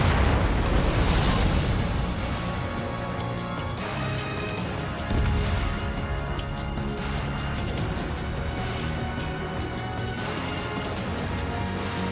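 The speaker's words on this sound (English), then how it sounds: "Bomber hit by a missile." A missile striking a bomber in the jet combat game Ace Combat 7, heard as a loud booming explosion that rolls into a sustained roaring rumble under layered game sound, with no voices.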